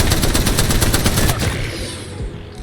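Rapid automatic gunfire in the Apex Legends video game, a loud dense burst of repeated shots that stops abruptly and leaves a fading tail.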